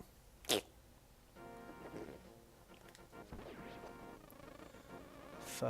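Bees buzz in A Link to the Past, a thin harmonic drone that swells and wavers for several seconds, broken by sharp hit sounds at the start and end, with no talk.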